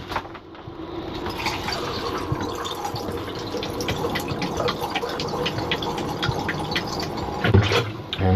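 Antifreeze poured down a motor home shower drain, a thin trickling and splashing into the trap with scattered drips, moderately close and steady, ending with a brief clunk.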